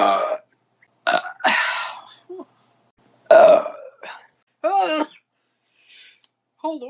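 A woman burps loudly several times after drinking kombucha, long croaking belches alternating with short ones and strained vocal noises, close to the microphone with silent gaps between.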